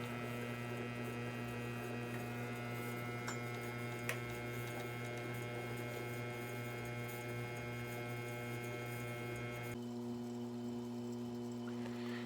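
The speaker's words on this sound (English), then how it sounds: "Now here's a look at another Baki winding a S-style pickup." Pickup winding machines, some factory original motors and some modified, run steadily in a shop, giving a constant mechanical hum with faint ticking; a second machine joins near the end.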